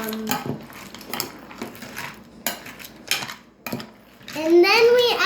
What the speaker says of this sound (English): there's my grandma stirring it up